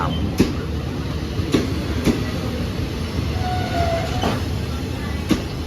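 Southern line train carriages roll past at Thung Song Junction station with a steady low rumble. Periodic clacks sound as the wheels cross rail joints, and a brief squeal rises near the middle. The passing is moderately loud and has no speech.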